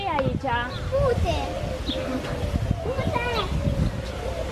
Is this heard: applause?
no